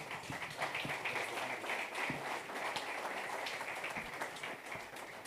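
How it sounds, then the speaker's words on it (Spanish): An audience at an evening presidential forum applauds with dense, continuous clapping for several seconds. "Un fuerte aplauso, por favor, para él."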